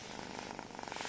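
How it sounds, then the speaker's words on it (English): A tiny kitten wrapped snugly in a t-shirt purrs close up, a soft, rapid, rhythmic rumble that keeps going without pause, with no talking. "purring furiously."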